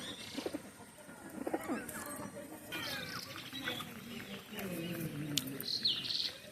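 Pet pigeons, one of a flock of eleven kept at home, call in soft repeated coos and chirps close by, with brief rustling and a few sharper calls between them.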